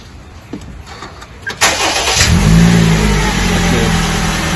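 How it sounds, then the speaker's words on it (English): A car engine cranks and catches with the brake pedal held down, then settles into a steady, fairly loud idle with a low hum; faint clicks come before the start, with no talking. "then I will start the engine"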